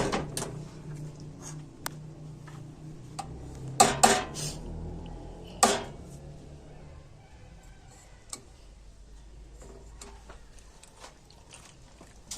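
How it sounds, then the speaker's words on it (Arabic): Béchamel sauce is stirred into macaroni in a tray, with a spoon giving sparse, close clicks and knocks against the tray and a soft scrape, plus a louder cluster of clatters partway through. "هقلب كويس اهو، كله ياخد من البشاميل."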